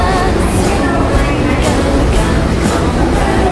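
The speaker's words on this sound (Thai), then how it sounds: "นี่คือสถานี JR ฮากาตะ เมืองฟุกุโอกะเป็นสถานีรถไฟใหญ่ที่สุด" Steady rumbling ambience inside JR Hakata station, a large rail station in Fukuoka, with a continuous low train and crowd roar throughout and no clear separate events.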